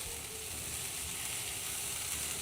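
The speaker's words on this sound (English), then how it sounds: "let that saute a little bit gently" Octopus pieces sauté gently in a pan, giving a faint, steady, even sizzle with a light stir and no voices over it.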